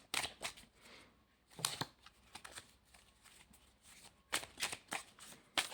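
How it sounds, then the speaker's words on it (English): Tarot cards are shuffled close by in several quick, crisp riffling bursts separated by short quiet pauses, with no talking. "We're going to pull some tarot."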